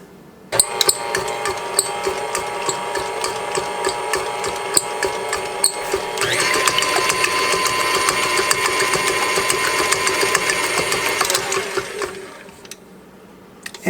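An electric hand mixer whirs steadily as it beats eggs and butter for a Texas Hill Country apple cake batter, running continuously at close range and growing louder and denser partway through before stopping near the end.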